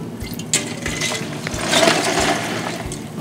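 Sticky gummy worm punch splashing and sloshing as hands stir through it in a bowl, a few wet plops and drips over a steady liquid churn, close and fairly loud.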